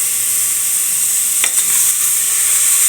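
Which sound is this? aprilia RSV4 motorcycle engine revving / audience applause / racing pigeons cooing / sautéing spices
sautéing spices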